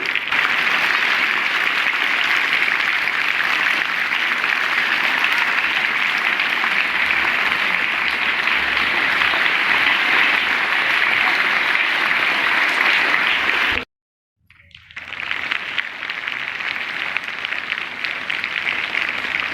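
Sustained applause from a large crowd at a school achievement ceremony honouring CBSE class 10 toppers, loud and dense, cutting out abruptly for a moment before the clapping resumes just as strong.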